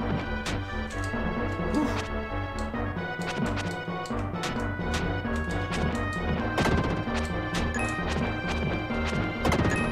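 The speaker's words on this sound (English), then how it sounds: "Do you see the faces in the explosions?" Explosions burst in the Illusion of Gaia video game, loud crashing blasts repeating over busy game music with no talk.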